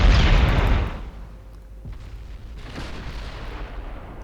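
Battleship guns firing with explosions in the naval strategy game Ultimate Admiral Dreadnoughts: a loud, broad boom at the start that fades within a second, followed by a rumbling tail and a softer second blast, with no talking.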